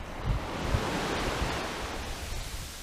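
Ocean waves on the Jamaican coast at St Elizabeth, a steady wash of surf with soft low thumps as waves break, mixed with light wind noise and no voices.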